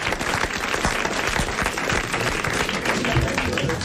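A television studio audience in 1985 claps steadily and fairly loudly throughout, a dense continuous applause with no pauses.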